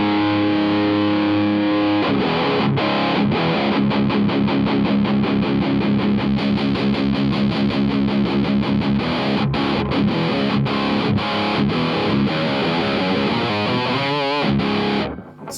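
Distorted electric guitar through a Bogner Ecstasy Red amp, moderate rather than extreme gain, played as tight, defined riffing with sustained chords and rhythmic chugs, loud and continuous throughout, ending in a brief fade.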